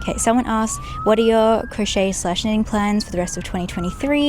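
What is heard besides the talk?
police sirens outdoors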